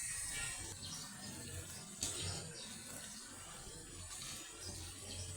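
Freshly harvested taro is washed in water, giving a faint, continuous splashing and running-water wash with a brief louder slosh partway through.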